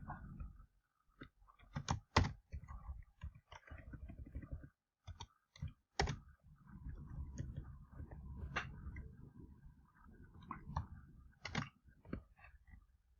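Bursts of keyboard typing, quick clicks in uneven runs with short pauses, close and moderately loud, no voices.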